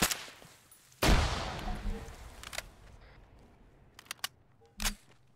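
A grenade explodes in the Arma 3 military sim with a loud, sudden broadband blast whose rumble decays over a couple of seconds, followed by a few sharp distant shots and a later thud.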